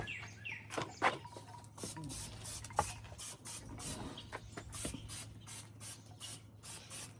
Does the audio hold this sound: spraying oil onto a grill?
yes